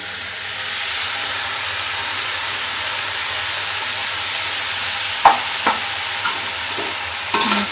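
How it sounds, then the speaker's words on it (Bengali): Green chillies sizzle and fry in a hot pan for a mashed banana-blossom and poppy-seed dish, a steady close hiss running throughout, with a few sharp scrapes and clinks of stirring near the end. "আর এখন এখানে দিয়ে দিব এই যে কাঁচামরিচ।"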